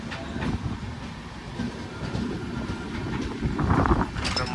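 Sanghamitra Superfast Express running between Bengaluru and Danapur, heard from on board as a steady, loud rumble of wheels on rail with faint clattering, continuous throughout with no talk.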